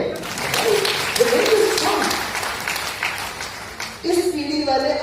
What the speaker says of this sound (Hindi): अपने माता पिता के थप्पड़ को, दादा दादी के थप्पड़ को जरा तालियां तो बजाइए भाई।